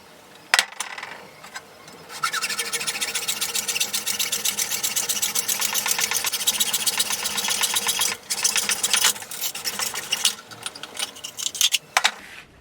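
A PVC tube is cut lengthwise, producing a fast rasping buzz of dense repeated strokes that runs close and steady for about six seconds, then returns in shorter bursts with a few sharp knocks.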